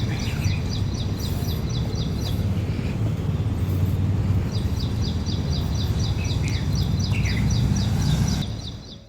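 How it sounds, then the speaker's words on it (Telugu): Morning birdsong rings out in repeated bright chirping phrases over a steady outdoor wash of wind and distant traffic, fairly loud throughout and fading at the very end, with no talk. "ఆ బర్డ్ సౌండ్స్ వింటుంటే ఎంత హాయిగా ఉందో కదా."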